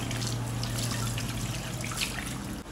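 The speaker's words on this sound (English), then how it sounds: "See how beautifully they are frying." Yam (dundun) frying in hot oil, a faint continuous sizzle and crackle with a low steady hum beneath, no talk.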